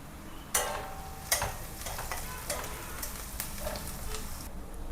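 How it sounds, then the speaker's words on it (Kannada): Girmit ingredients frying in a pan, with a steady sizzle broken by several sharp clinks and scrapes of a stirring spoon, close and alone with no talking. "ಇವಾಗ ಫ್ರೈ ಆಗ್ತಾ ಇದೆ ಅಲ್ವಾ"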